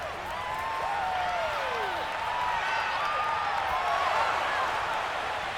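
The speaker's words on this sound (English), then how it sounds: "The crowd getting into it as we come up on a big 3rd down." A stadium crowd in the Madden NFL 22 football video game roars steadily ahead of a big third down, a dense continuous wash of noise.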